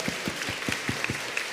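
A church congregation at a Korean Sunday service claps in a quick, even rhythm, a short burst of hand claps in a room with nobody speaking over it.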